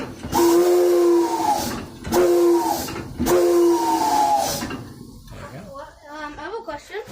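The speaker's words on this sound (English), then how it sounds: "Which part is the whistle? This is the whistle right here." Steam locomotive whistle at a train museum, blown in three loud sustained blasts about a second apart with hissing steam, followed by people talking nearby.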